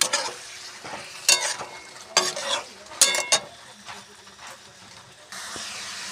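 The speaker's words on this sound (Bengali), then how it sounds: "সয়াবিনটা ভাজা হচ্ছে মশলার সাথে" Soybean chunks fry with spices in a pan, giving off a steady hiss and sizzle that is broken by several loud scraping bursts as a spatula stirs them, close and clear.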